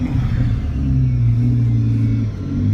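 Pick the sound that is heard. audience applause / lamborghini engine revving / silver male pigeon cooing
lamborghini engine revving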